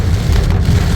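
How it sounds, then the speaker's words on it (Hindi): Heavy monsoon rain pours down in Goa as a dense, loud, steady roar of water hitting the ground, with a deep rumbling wash underneath and no break. "Rains are crazy, crazy, crazy. It's pouring like crazy."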